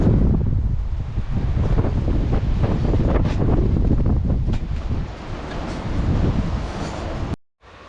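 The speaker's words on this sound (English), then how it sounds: "it's still pissing down outside, as you've just seen there" Heavy rain pours down outdoors in a steady, dense wash of hiss that stays loud and even for several seconds, then cuts off abruptly near the end.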